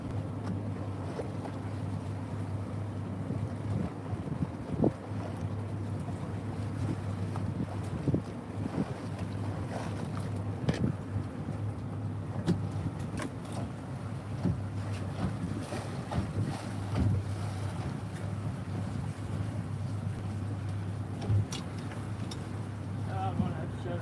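A small boat working on open water during a section-lifting job, a steady low engine drone with wind buffeting the microphone and scattered knocks and splashes throughout.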